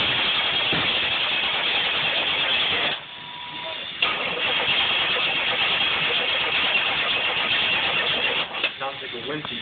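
A 1987 Camaro IROC-Z with a 5.7L engine on a start-up attempt, loud continuous rough churning and cranking noise that briefly drops out, then resumes with uneven sputtering toward the end, with people talking nearby.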